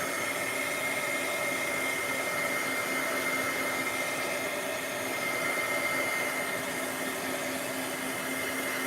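A heat gun blows steadily on a craft piece to dry it, a constant close whooshing roar with a faint steady whine that runs unchanged throughout, with no talk.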